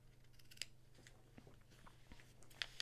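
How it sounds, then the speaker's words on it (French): Scissors snip a small notch into the seam allowance of a fabric piece, a few faint, crisp clicks close up against a quiet room. "reportez la fente par un petit coup de ciseau dans la marge de couture"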